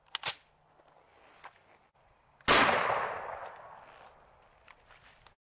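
Gunshot from a 7.62x39 rifle firing a 122 grain bullet at an old piece of armor: one loud sharp blast with a long decaying echo, preceded and followed by faint clicks and handling noises.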